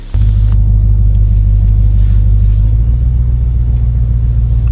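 RAM TRX truck engine fitted with a JMB Performance intake rumbles loudly and close, a deep steady idle drone that holds throughout, no talk.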